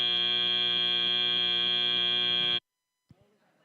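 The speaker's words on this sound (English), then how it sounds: "there's the ominous buzzer of doom" Field buzzer at an FTC robotics tournament, one loud steady electronic buzz with rich harmonics held for about two and a half seconds, then cutting off abruptly before a brief faint knock.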